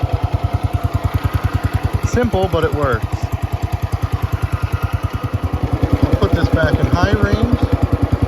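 A Cub Cadet 104 garden tractor's single-cylinder engine idles with a steady, rapid thumping pulse throughout, loud and close, while someone talks over it.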